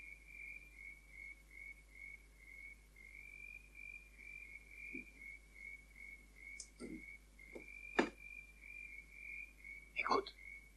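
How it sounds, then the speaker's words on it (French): A frog croaks in a steady repeating rhythm through quiet night ambience, joined by a few sharp clicks and faint rustles near the end. "tu entends ces foutues grenouilles?"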